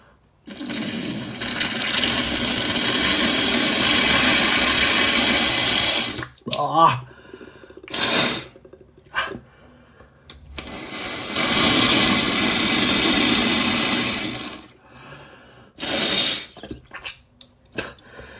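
Salt and baking soda water being rinsed through a nostril, heard as long splashing, gurgling water bursts that alternate with shorter sniffs and snorts, loud and close.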